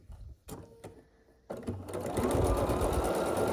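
A sewing machine stitches the corners of a scrappy quilt block, starting with a few short quiet bursts and then running into a loud, steady whirring stretch, with no talking.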